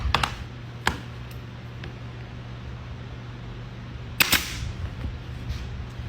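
Nail gun firing nails into the wood of a farmhouse-style X, giving a sharp near snap early, a lighter one soon after, and a louder double crack near the end over a steady low hum.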